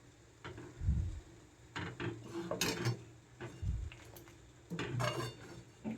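A spoon scrapes and clinks against a pan while stirring milk mixed with Amul milk powder over medium heat, in irregular bursts of metallic scraping, fairly close and moderately quiet.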